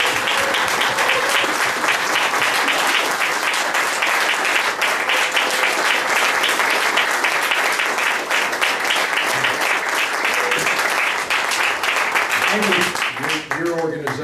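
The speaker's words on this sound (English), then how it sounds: "give you our appreciation and applause for both of you" Sustained audience applause fills the room, loud and dense, fading toward the end as a voice begins speaking.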